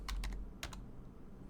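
A few quick keystrokes clatter on a computer keyboard, typing a command at a prompt, close and crisp, in two short bursts before quiet.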